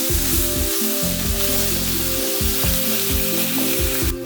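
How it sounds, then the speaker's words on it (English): Ground beef sizzles and crackles loudly in a pan as it fries, a dense continuous hiss with a low rumbling hum beneath it. "We're just going to let this fry and get nice and crispy."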